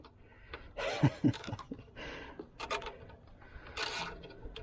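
Scraping and rasping clicks from a bolt tightened one-handed with a hand tool while an alternator is changed on a 2008 Acura RDX, with a few sharper knocks in short, irregular bursts close by.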